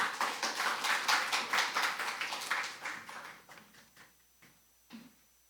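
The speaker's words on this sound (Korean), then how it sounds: "우리 박수로 맞이하겠습니다." Congregation claps in a Korean church service to welcome someone to the front, a dense round of rhythmic hand claps that thins out and fades, ending with a few scattered claps.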